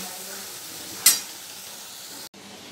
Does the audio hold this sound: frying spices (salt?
yes